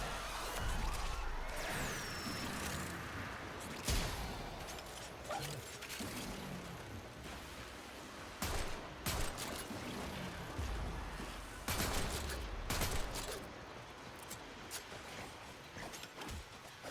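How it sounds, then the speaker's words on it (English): Punchy shell-loaded shotgun blasts in Warframe, several sharp broadband bangs at irregular intervals over mechanical clatter, reload clicks and whooshing game effects, with no talk. "very punchy kind of shotgun"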